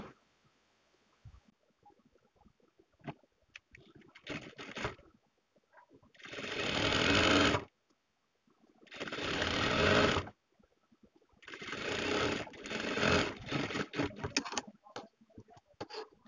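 Sewing machine stitching piping onto a sleeve, three loud close bursts of rapid mechanical whirring separated by pauses with softer handling noises.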